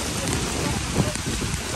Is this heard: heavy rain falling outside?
yes